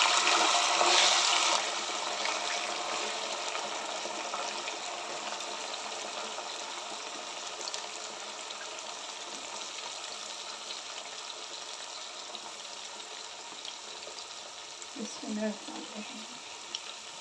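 Eggplant and potatoes fry in a pan for an aloo baingan achari masala dish, giving a steady sizzling hiss. The sizzle starts louder, then settles into a continuous, even crackle.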